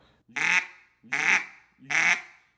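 A duck call is blown with a hummed grunt, giving three evenly spaced, buzzy quacks, each short, loud and close, with quiet gaps between them.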